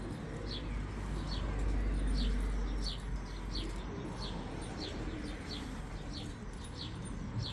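Pigeons in a coop built from a converted construction trailer, with soft repeated coos and chirps under a steady low rumble of background noise, no talking.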